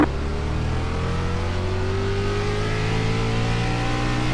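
Gen 6 stock car engines roar in the iRacing simulator during a Firecracker 500 practice session, a loud sustained drone whose pitch climbs gradually as the engines rev, with several cars blending into one steady engine note and no talk.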